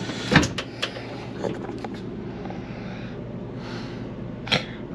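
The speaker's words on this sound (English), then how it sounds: "Well, folding doors, if I can do this one-handed." A folding door inside a 2001 American Dream 40DMS Class A diesel motorhome clicks and rattles with a few sharp latch knocks and soft sliding sounds, close but fairly quiet, over a steady hum of running air conditioners.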